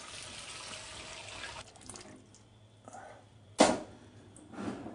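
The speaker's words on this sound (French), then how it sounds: "Maintenant nous allons mouiller jusqu'à hauteur pour bien la recouvrir." Water pours into a cooking pot of oxtail and vegetables with a faint liquid trickle, then comes a sharp splash and a softer second pour, all at low level without talk.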